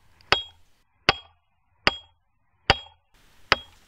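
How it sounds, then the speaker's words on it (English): Five sharp, evenly spaced hammer blows ring out on a tool driving a split through a thick wooden plank, each strike crisp and close with a brief wooden knock and short decay, no talking. "I am splitting out a nice thick plank for the riser"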